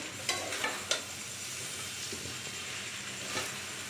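Chowmein is stirred in a pan over a lowered gas flame, giving a soft continuous sizzle with a few quick spatula scrapes and taps near the start and one more later.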